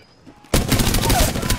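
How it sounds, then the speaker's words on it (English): Sudden burst of sustained automatic gunfire from the R99 in Apex Legends, loud and dense after a half-second of near silence, continuing steadily to the end. "I'm taking fire"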